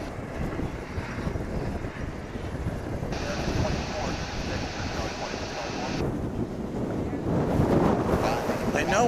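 Strong gusty wind buffets an outdoor microphone at DFW Airport, a continuous rough roar that swells and eases, with a voice speaking at times.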